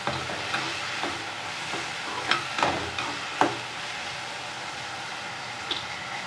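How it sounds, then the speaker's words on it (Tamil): Turkey berries (sundakkai) fry in oil for a kulambu, a steady close crackling sizzle with a few sharp pops and stirring clicks scattered through it. "அந்த எண்ணெயிலேயே நல்லா ஒரு பத்து நிமிஷம் வேக இந்த சுண்டக்காய்"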